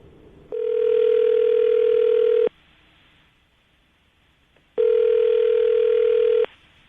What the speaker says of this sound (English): I'm going to call him now, see if we can get him on the phone